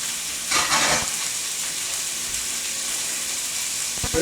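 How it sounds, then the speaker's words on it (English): Steak dropped into a very hot oiled pan sizzles with a loud, steady broadband hiss that swells briefly near the start, with faint clinks of handling near the end and no talking. "That is a very hot pan. And now, steak."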